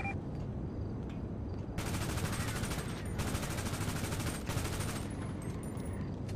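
Gunfire in GTA 5 role-play comes as long rapid bursts of automatic shots, fairly loud and sustained for several seconds, with brief pauses between volleys and a faint background hum.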